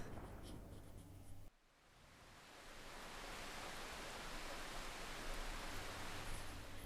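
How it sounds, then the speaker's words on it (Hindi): Heavy rain pours down in a dense, steady roar of broadband hiss. It builds quickly after a brief quieter moment and then holds loud and unbroken, with no voices. "और फिर होती है जोरदार बारिश"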